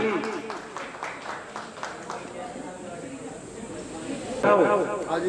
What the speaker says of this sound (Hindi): ताली जोर से स्टाफ, ताली।